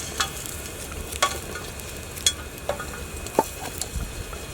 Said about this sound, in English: Okay, so just a clove of garlic, fry that off in there.